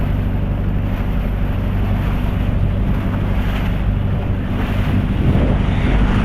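A fishing boat running out toward the open sea gives a steady, loud engine drone with constant wind and water rush throughout, and no talk.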